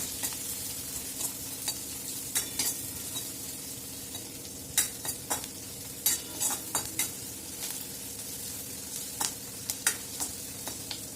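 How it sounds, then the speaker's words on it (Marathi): Chopped onions sizzle steadily in hot oil while a utensil scrapes and stirs them in the pan. Irregular clinks and scrapes sit over the constant frying hiss, with no talking. "ते कांदे आपल्याला तेलात टाकायचे आहे ते आपल्याला गुलाबी कलर तिथं तोपर्यंत परतून घ्यायचं आहे"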